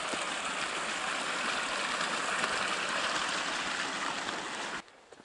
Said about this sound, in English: Walking along this creek.